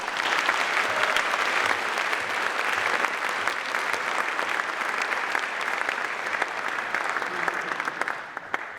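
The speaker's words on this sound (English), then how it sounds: "let's give Dr. Hefner LeBanc another round of applause" A large audience at the Mississippi Boys State opening ceremony at the University of Mississippi claps steadily, a dense, loud wash of applause lasting several seconds before thinning slightly at the end.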